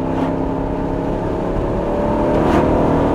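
A car drives and accelerates, its engine droning loud and steady close by as the revs climb gradually toward the end.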